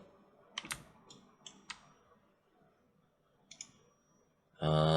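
Computer mouse clicks at a desk while someone works in animation software: a handful of sharp, separate clicks, some in quick pairs, close and fairly quiet, followed by a sudden louder burst of another sound at the end.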